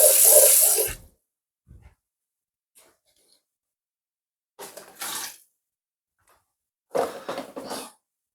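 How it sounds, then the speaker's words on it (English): Water is poured in with mango in a short run of splashy bursts, the first the longest, then two brief gushes separated by quiet pauses. "I'll be adding just a little bit of water"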